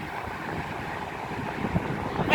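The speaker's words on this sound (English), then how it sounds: "it's pretty windy out here" Steady gusting wind buffeting the microphone at an airport during a landing, a continuous broadband rush that swells slightly toward the end, with no talking.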